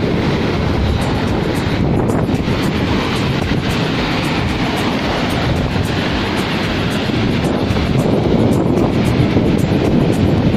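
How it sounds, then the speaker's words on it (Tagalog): Waves crash and wash continuously against a seawall, mixed with heavy wind buffeting the microphone; no one speaks. "Ayan, ang hampas ng alon."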